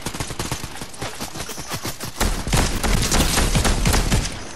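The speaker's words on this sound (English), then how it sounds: "I'm being shot at again" Rapid gunfire in Fortnite, played on a PS4 Slim: dense bursts of automatic shots and repeated cracks, steady at first and then growing louder and heavier with booming impacts, continuing without pause.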